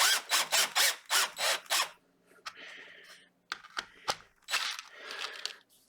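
A torque driver tightens a screw into 3D-printed helping hands: a close, rhythmic run of about six ratcheting bursts, then scattered clicks and scrapes as the screw seats.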